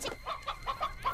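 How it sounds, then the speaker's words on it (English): A cartoon chicken clucks softly in a quick series of five or six short, rhythmic clucks, faint and with no talk over them. "The chicken!"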